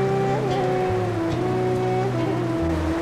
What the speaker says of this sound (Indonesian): Dan air hujan ini akan mengiringi kita hari ini untuk bertemu